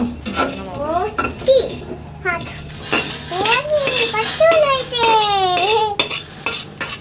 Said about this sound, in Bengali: এভাবে অনবরত নেড়ে ফেড়ে সব চালগুলো ভেজে নেব